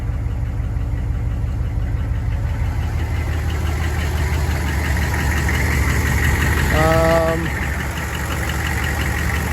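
6.5 turbo diesel in a dually pickup truck idling close by, a steady low rattling clatter that runs throughout, with someone speaking briefly over it.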